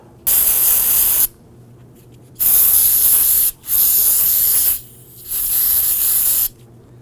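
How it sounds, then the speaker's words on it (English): Several long hissing bursts from an aerosol can of solvent cleaner sprayed on rear drum brake parts of a 2008-2011 Ford Focus, separated by short pauses, close and loud. "I'm going to use some spray solvent and clean off all of this."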